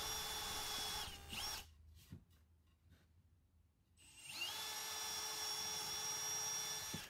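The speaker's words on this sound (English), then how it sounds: "We're going to use this step drill bit to drill out holes and countersink the heads." A step drill bit bores and countersinks pocket screw holes. The power drill whines loud and steady, drops out for a short gap with scattered clicks, then spins up again and runs on.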